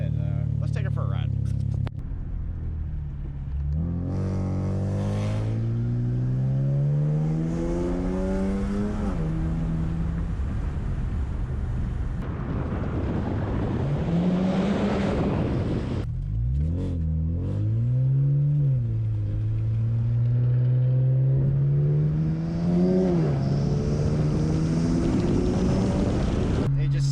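A BMW 335 engine pulls through rising and falling revs while the car drives, the note climbing in repeated sweeps, loud and close, mixed with wind rush, with a voice talking over parts of it.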